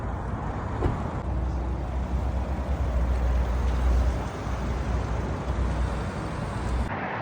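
A car drives off outdoors, a low engine rumble and road noise at moderate distance that swells briefly and then fades, with no voices.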